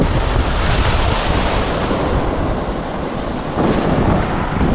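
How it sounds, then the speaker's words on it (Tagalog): Loud, continuous roar of large deep-water ocean waves and surf with strong wind buffeting the microphone, no voices. "Pero yung alon dun sa malalim, malaki ang alon mga kaidol."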